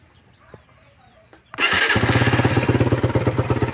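A Suzuki Raider motorcycle with a noisy cylinder head is started after a quiet pause, then idles loudly and close in a rapid, even, throbbing rhythm, with a faint rooster-like call in the quiet before it catches.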